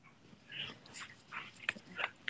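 A dog breathes and chews or whimpers softly close by, a quiet snuffling series with a couple of sharper bursts near the end.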